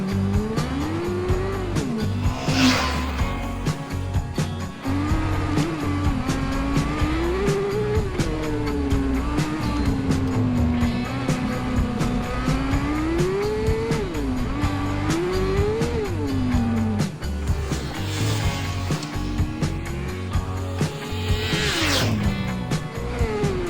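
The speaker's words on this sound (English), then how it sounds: "A high-revving motor and kicking up some dust was the perfect way to start the day" Honda CBR600RR motorcycle on a dirt shortcut across LA, its high-revving engine climbing and falling through the gears in sustained loud waves, close up for the full stretch.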